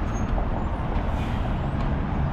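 A truck brakes to a stop with a steady hissing air-brake rush over a low engine rumble, heard nearby and continuous throughout.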